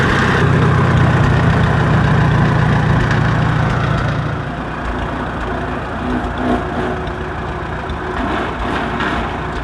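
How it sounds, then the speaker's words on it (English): A Farmall 300 tractor engine idles steadily and loudly nearby, a continuous low rumble that drops slightly in pitch and intensity about halfway through, with no talk over it. "just let her sit there and run a little bit while we put our stuff away"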